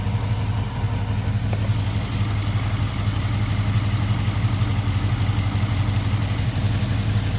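A V8 car engine idles with the hood open, a steady low rumble running loud and unbroken throughout with no talk over it.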